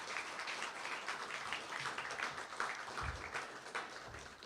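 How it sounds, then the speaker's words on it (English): Audience applause at an awards recognition ceremony, steady dense clapping heard at a moderate distance and fairly faint, with no talk over it. "Please join me in giving her a round of applause"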